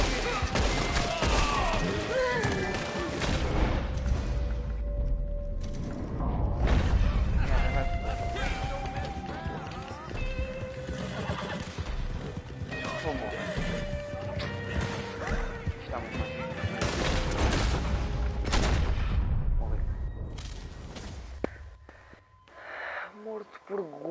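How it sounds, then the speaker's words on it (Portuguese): Bursts of repeater rifle gunfire crack amid loud game sound effects and music in Red Dead Online, while players talk and exclaim excitedly over the shots throughout. "Morto por guarda, levou um tiro com uma repetição"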